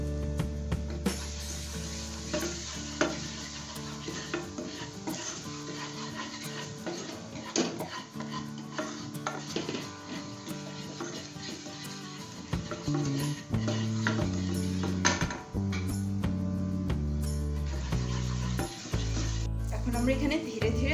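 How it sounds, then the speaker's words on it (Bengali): Garlic paste stirred into melted butter and flour in a pan, with a soft sizzle and scraping stirs under background music and occasional talking. "রসুন বাটা দিয়ে দিচ্ছি।"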